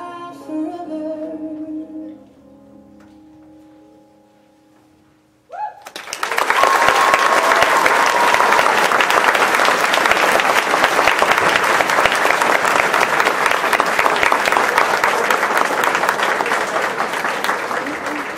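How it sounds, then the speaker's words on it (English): Loud, sustained audience applause after a dance crew's performance to a song, breaking out suddenly after quiet music and continuing as dense steady clapping to the end. "another round of applause for Dance Infinia"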